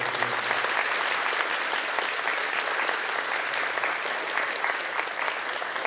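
A standing audience at a high school National Honor Society induction gives sustained, dense applause, many hands clapping loudly and evenly for the full stretch with no voices over it.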